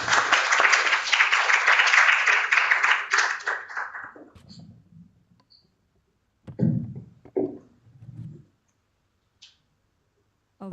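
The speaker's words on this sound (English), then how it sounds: "Big round of applause." An audience at a roundtable on teacher professional development for inclusive education gives a round of applause, dense and fairly loud for about four seconds before thinning out, followed by a few scattered thumps and shuffling noises.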